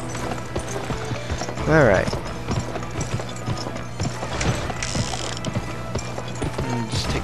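A horse's hooves clop at a trotting pace in the western game GUN, mixed with rattling tack and mechanical clicks, while someone briefly talks over the ride.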